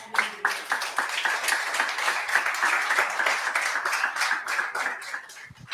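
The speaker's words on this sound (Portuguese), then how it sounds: "Aplauda Jesus." Audience applause rings out at a Brazilian church sermon, a dense, steady wash of many hands clapping for nearly six seconds, loud and close, with a faint voice briefly audible underneath.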